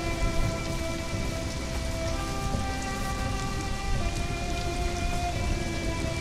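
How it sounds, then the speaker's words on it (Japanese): Steady rain pours over the landscape in Conan Exiles, a constant wash of drops with no clear thunder crack, just an even, unbroken downpour throughout. "この世界の雷ちょっとチャッチー"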